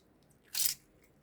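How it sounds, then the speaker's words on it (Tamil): A lemon squeezed into fresh sugarcane juice gives one brief, faint wet squish in an otherwise quiet moment. "லெமனும் இதிலே புழிஞ்சிடலாம். அப்போ தான் விதையெல்லாம் இதிலே கொட்டும்."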